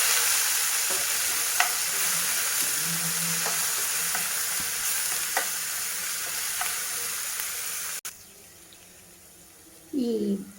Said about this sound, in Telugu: ఆ పేస్ట్ దీంట్లో వేసి బాగా వేయిద్దాము